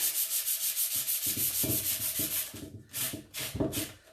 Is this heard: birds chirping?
no